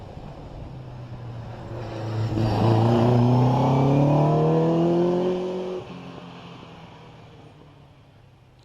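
Racing car climbing the Prescott Speed Hill Climb course, engine note swelling as it accelerates through rising gear pitches, loudest mid-run, then cutting off abruptly on the overrun and fading into the distance.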